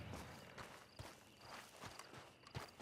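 A horse walks at an even pace in Red Dead Redemption 2, its hoofbeats landing in regular clip-clop steps over a continuous faint background hiss, no speech.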